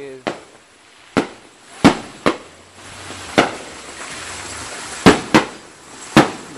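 Fireworks burst on the Fourth of July beside a pond, with about eight sharp, loud bangs spaced unevenly over a low background hum.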